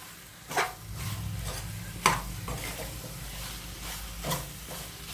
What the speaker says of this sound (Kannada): ಒಂದೆರಡು ಸೆಕೆಂಡು ಅದು ಫ್ರೈ ಮಾಡ್ಕೊಳ್ಳೋಣ